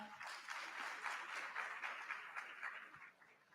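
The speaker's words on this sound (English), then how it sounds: "Oh, this applause is too feeble." Feeble applause from an audience at an induction ceremony for newly qualified physician assistants: a thin, steady patter of scattered clapping heard from a distance, fading slightly at the end.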